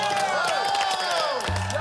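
Small group of Korean TV entertainers on location in Kenya clapping and cheering, a brief burst of close applause and whoops mixed with excited voices.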